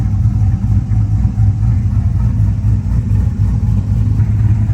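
A GM LS V8 with a surging, sticking idle runs warm at a steady idle, making a loud, close, low rumbling drone with a slight pulsing unevenness and no voices.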